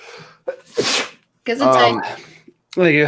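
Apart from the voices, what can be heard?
sneeze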